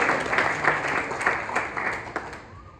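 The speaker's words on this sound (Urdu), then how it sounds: "میں زوردار تالیوں سے انہیں استقبال کرتا ہوں" Applause from an audience at a college campus event, a dense steady patter of many hands that holds under faint background noise and fades out near the end.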